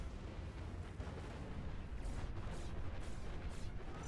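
Commander uber cannons firing in Planetary Annihilation amid a heavy battle, a continuous low thunderous rumble layered with booms and blasts, fairly quiet and distant.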